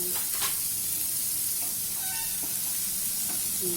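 Bottle gourd peel fries in hot oil in a pan, a steady broadband sizzle with occasional scraping stirs and soft clinks, close and continuous with no talking.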